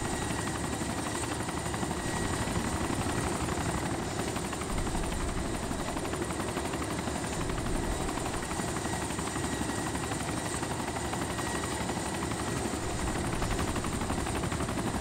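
Helicopter rotor in the DayZ video game, a steady loud thumping drone that fills the whole stretch without letup, no voices over it.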